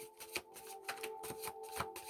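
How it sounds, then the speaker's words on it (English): Tarot cards being shuffled in repeated soft riffling bursts, close and fairly quiet, with a steady faint hum underneath and no talking. "Let's keep shuffling."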